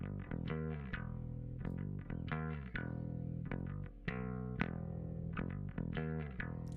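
Bass guitar notes plucked in a steady riff, with a slight gritty, crunchy edge on each note, played alone.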